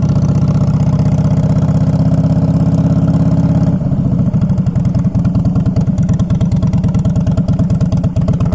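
A 2011 Harley-Davidson Fat Boy Low with a heavy, steady engine drone while riding, which shifts after a few seconds to a loping, pulsing V-twin beat as the bike pulls away.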